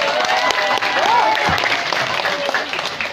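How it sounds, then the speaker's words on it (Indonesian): Crowd applause in a mosque gathering, a steady wash of clapping filling the space, with an overlapping voice and a rising tonal murmur riding over it throughout the short stretch. "Tepuk tangan dulu."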